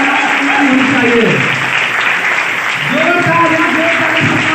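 A seminar audience claps loudly and steadily in a sustained burst, with a voice speaking over the applause.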